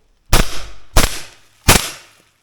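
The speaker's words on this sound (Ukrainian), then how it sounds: "Три постріли з глушником, дивимось." Three muffled AK-74 rifle shots through a suppressor, evenly spaced about two-thirds of a second apart, each a sharp thump with a short decaying tail, close and alone.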